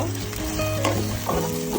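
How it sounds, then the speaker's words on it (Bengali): Ginger and garlic paste frying in a pan, a constant close sizzle with scraping stirring strokes and a faint background hum, brief and steady with no talking. "পেস্ট এক টেবিল চামচ দিয়ে একটু ভালো মতো ভেজে নেব কাঁচা গন্ধটা যতক্ষণ থাকবে ততক্ষণ ভেজে নেব"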